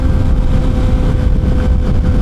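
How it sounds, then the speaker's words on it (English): A Kawasaki ZX6R 636 motorcycle with a Dynaworks tune, velocity stacks and full M4 exhaust cruises at highway speed in sixth gear, giving a loud, steady low engine drone mixed with wind rush. "We're cruising along highway speeds in 6th gear"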